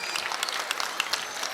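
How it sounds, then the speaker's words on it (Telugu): Audience applause at a school's 44th anniversary function, a steady wash of many hands clapping together with no voices standing out. "చప్పట్ల రూపంలో"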